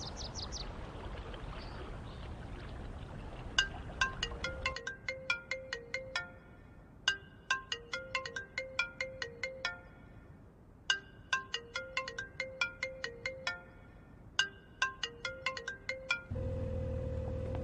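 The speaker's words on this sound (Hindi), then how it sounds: "बॉस मेरा फोन नहीं उठा रहा है।" A phone ringtone rings on and on without being answered, short bursts of bright electronic beeps repeating in a steady pattern that stands clear and alone, with a soft background wash before and after.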